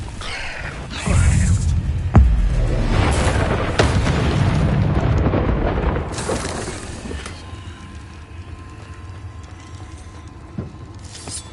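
Confringo blasting spell explosion in a cave within a fantasy video game: a loud boom around the start followed by rumbling, mechanical clanking debris that slowly fades, then quieter game ambience.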